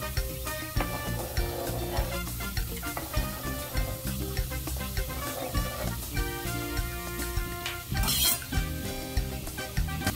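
Onions go into a pan for homemade hot sauce, with steady sizzling, frying and stirring running throughout, plus occasional clinks of utensils against the pan.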